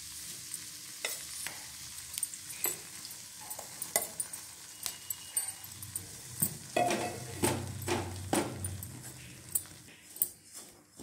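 Gram flour (besan) is roasted in a pan over low heat for laddoos, with steady close scraping and stirring strokes of a spoon against the pan and a soft sizzle underneath, growing busier toward the end.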